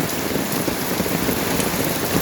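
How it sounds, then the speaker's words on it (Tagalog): Heavy rain pours down steadily during a flood, a dense continuous hiss of drops drumming on a surface close by. "ayan pa rin oh lakas pa rin lakas lalang lumalakas yung ulan"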